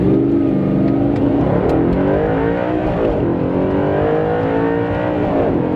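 A car revving hard during a manual sport-mode acceleration test, its mid-pitched engine loud and close as the note rises, dips at a gear change and climbs again, with no talk over it.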